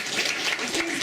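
An audience at a conference lecture applauds, a steady wash of dense clapping that holds for the whole second with no pauses.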